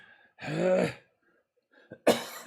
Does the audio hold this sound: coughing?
yes